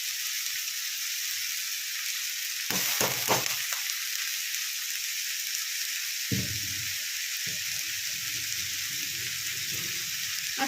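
Chowmein noodles, boiled with only salt, stir-fried in a pan, with a steady frying hiss throughout and scraping, clattering bursts of stirring near the start and again through the second half; no talking.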